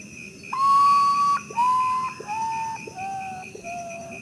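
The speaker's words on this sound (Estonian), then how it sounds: "Esimesena kuuleme hall tüükasorri." A grey potoo gives a melancholy series of whistled notes, each one sliding down in pitch and fading. The notes come clear and fairly close over quiet background hiss.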